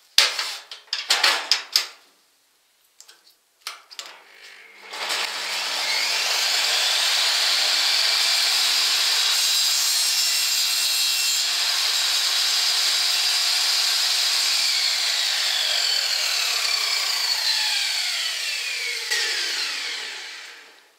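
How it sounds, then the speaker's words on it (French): A table-mounted circular saw makes a 90-degree test cut with a small guide. A few clicks and knocks come first, then the blade spins up into a loud, sustained whine that rises through the cut and winds down at the end. "ce que je vais faire, c'est un test de coupe à 90 degrés avec ce petit guide là pour voir si on est bien à l'équerre."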